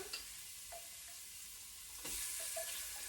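Ginger, garlic and onion sizzling in a pan, a steady quiet hiss with a few small pops, growing noticeably louder and brighter partway through.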